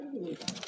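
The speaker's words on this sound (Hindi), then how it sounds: "जे लो भाई, 20 कबूतर का लाट आ गया है।" Pigeons in a loft lot of about twenty birds for sale give soft, low cooing close by, steady and murmuring through a short moment alongside a faint voice.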